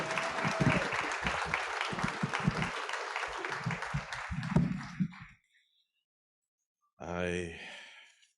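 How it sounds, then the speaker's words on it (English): Loud audience applause for musical performers at an MLK breakfast, a dense crowd clapping with some cheering that stops abruptly after about five seconds, then a short silence before a voice begins speaking. "Can we give our musical talent another round of applause, please?"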